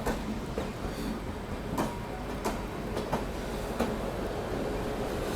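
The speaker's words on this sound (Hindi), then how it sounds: "जैसे कि ये ट्रेन देखिए, ये आ रही है टूवर्ड्स आमला इटारसी की तरफ से" A train rolls into Nagpur station, a steady rumbling roar with rhythmic clicks of wheels over rail joints repeating every second or so, heard continuously at close range.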